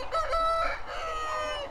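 Chickens cluck steadily on a poultry farm while a rooster crows loudly and close over them, with no talking.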